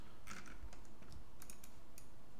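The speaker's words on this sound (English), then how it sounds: "Select it, hit M on the keyboard." Quick bursts of keystrokes on a computer keyboard while operating Makera CAM software, a few crisp clicks scattered over a couple of seconds against a steady hiss, close and fairly quiet, with no speech.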